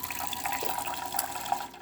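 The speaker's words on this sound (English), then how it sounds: "Hot water, working perfectly fine, no leaks on this side or anything like that." Hot water runs from the spout of a DeLonghi coffee machine in a soft, continuous hiss and trickle with faint hiss bursts, heard close and quiet with no voices.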